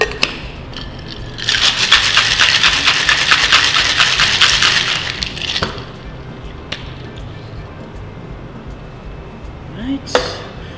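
Rapid rattling of ice inside a cocktail shaker while mixing a beer cocktail, loud and steady for several seconds, then stopping; a few clinks follow.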